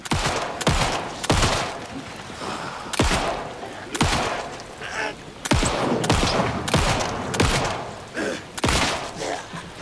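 Rapid gunfire from weapons in the survival horror game Alan Wake 2, with repeated sharp loud shots in irregular bursts, each ending in a short decaying tail, over a low background.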